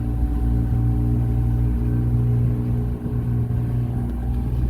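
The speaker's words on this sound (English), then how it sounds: "So we're going to start with the kicker motor." The outboard kicker motor on a 2020 Hewes Searunner 190 boat runs in reverse, a steady, close, low engine drone with a constant pitch and only a slight dip midway.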